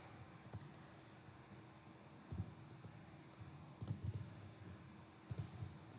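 Computer mouse clicks at a desk while working in design software, a few sparse, quiet, sharp clicks spaced irregularly against a faint background hum.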